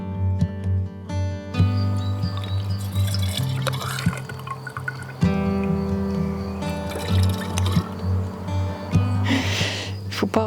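Homemade elderflower lemonade trickles and gurgles as it is poured into bottles, with irregular drips and fills, close by under intermittent conversation.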